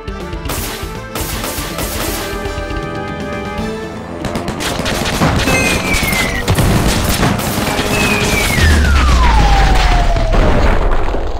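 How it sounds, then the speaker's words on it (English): Heavy machine gun blazing in a mobile shoot-'em-up game, a loud, continuous rattling barrage with booming impacts and explosions, plus falling whistle effects near the end. "Heavy machine gun!"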